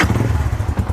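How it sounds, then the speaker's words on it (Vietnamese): A Yamaha Exciter 155 VVA motorcycle with an aftermarket exhaust idles close by with a deep, rhythmic thumping exhaust note, low and steady. "Đây là tiếng nổ găng thi này anh em này."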